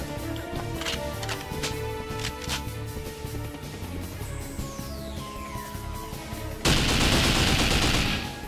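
Gunfire in the shooting video game Nightfire: bursts of rapid shots over a droning game soundtrack, ending in a sudden loud blast of noise.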